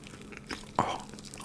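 Someone bites and chews crunchy fried cheddar cheese croquettes up close, with one sharp crunch followed by softer chewing, with no talking.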